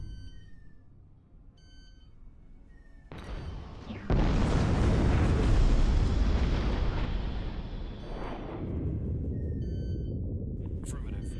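A torpedo detonates in the space combat game Infinity: Battlescape with a sudden loud roaring blast that rumbles for several seconds and then settles into a lower steady roar, with short electronic beeps before and after.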